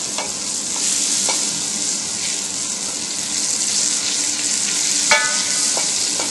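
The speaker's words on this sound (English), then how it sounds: "So now at this point, butter is melting, you can see the foam." Butter melting and foaming in a pan over controlled heat while a bechamel sauce is being started, giving a steady close-up sizzle and crackle with soft bubbling pops, heard alone and without talk.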